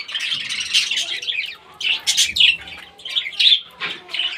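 Pet budgerigars and a cockatiel chirp and squawk in quick, overlapping bursts, close and fairly loud, with no talking.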